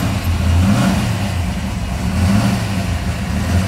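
A 1965 Mustang Shelby GT-350 tribute car with a high-performance 289 V8 runs loud and close, its deep, lumpy exhaust rumble swelling in short revs over a rough idle.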